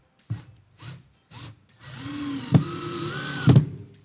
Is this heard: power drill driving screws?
yes